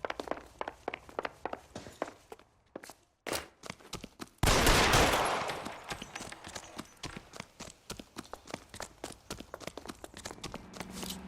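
Gunshots in a dramatic standoff scene, a few sharp isolated cracks followed by a loud sustained burst of noise, set against a steady clip-clop of hooves or footsteps throughout.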